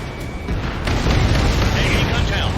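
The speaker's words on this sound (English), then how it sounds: "What was that explosion?" A low, rumbling boom from an explosion in the Ace Combat 7 combat flight game, heard from the cockpit: the blast swells after half a second and rolls on as a sustained loud roar with the ambient hum.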